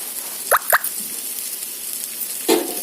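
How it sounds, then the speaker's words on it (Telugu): Ghee goes into a pan of radish frying with fenugreek and mustard seeds, landing as a few soft, close plops over a faint background sizzle. "కొద్దిగా నెయ్యి అయితే వేసుకుందాం"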